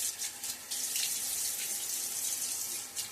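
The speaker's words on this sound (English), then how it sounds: "A little splash of water." Water runs from a tap into a sink during a wet shave, a close, steady hiss and splash with small fluctuations throughout, no voices over it.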